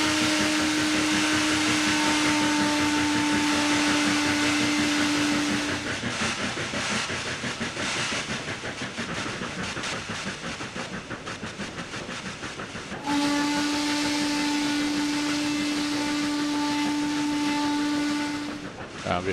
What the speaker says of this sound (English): that steam engine is kind of far away from me